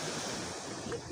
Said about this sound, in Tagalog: Malaki ang alon, oh.